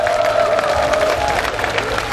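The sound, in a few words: crowd applauding at rally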